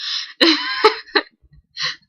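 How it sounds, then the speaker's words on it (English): A single person coughs and clears their throat several times in short, close bursts, loud and dry, with brief pauses between. "Cough."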